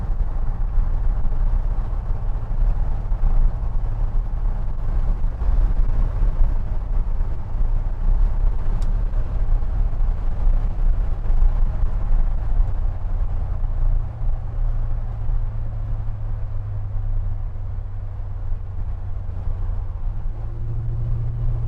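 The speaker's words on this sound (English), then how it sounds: "I'm gonna hop on the highway real quick, let you know how she does." 1972 Chevrolet C10 pickup cruising on a highway, a continuous low engine drone and road rumble heard from inside the cab, steady and loud with a slight shift in engine note near the end.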